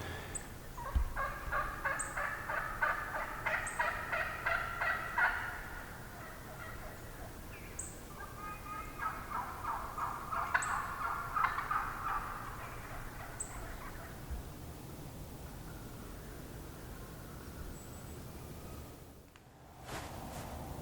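Wild turkeys gobble in two long, rapid rattling bursts a few seconds apart, fairly distant, in Tennessee woods during deer season, followed by a quiet stretch of outdoor ambience.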